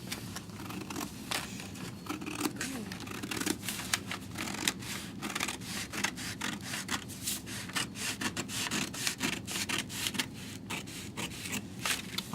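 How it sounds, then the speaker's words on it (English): Paper scissors snip through pattern paper for a sleeve sloper, producing soft, repeated scratchy cutting strokes in a quiet room with no speech. "I'm going to take my paper scissors and I'm going to carefully cut out"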